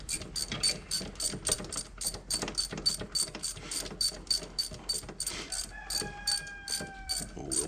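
A hand ratchet clicks rapidly and steadily close up as it tightens a bolt on the brakes of a Coleman AT125UT, continuing for several seconds.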